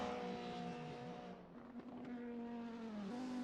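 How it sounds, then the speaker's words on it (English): A 90s DTM touring car in a racing video game laps the Nordschleife, its engine holding a steady droning tone with a turbo whistle and a pitch rise near the end. The sound is fairly quiet throughout. "Just hear that turbo whistle."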